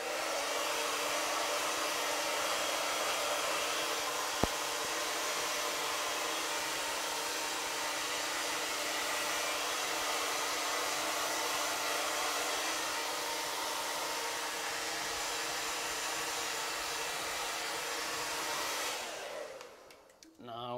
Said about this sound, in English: So now when I'm combing it and blow drying, I also stretch out some of the curls or wavy texture that might be in the hair